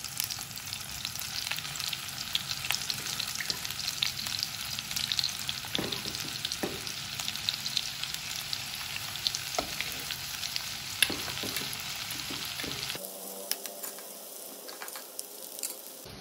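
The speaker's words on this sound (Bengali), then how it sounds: "চিকেন গুলো ফ্রাই হয়ে গেছে এখানে" Chicken fries in olive oil with a dense, crackling sizzle and occasional stirring taps. The sizzle thins out abruptly near the end.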